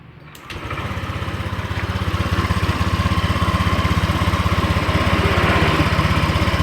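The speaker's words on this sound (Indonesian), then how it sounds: "Kita hidupkan motornya" A Honda Vario 125 scooter that has a faulty thermostat and overheating trouble is started with a quick crank, then settles into a steady, close, loud engine run with a fast, even pulse that continues to the end.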